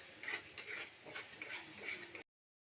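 A spoon scrapes and stirs masala spices in a pan while paneer chilli is cooked, giving soft, rhythmic metallic scraping strokes roughly twice a second. The sound is close and faint and cuts off abruptly.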